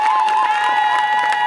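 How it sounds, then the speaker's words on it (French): A crowd at a wedding ceremony cheering and applauding, with a sustained whistle or high tone over dense clapping and shouts. "les acclamations, c'est fait."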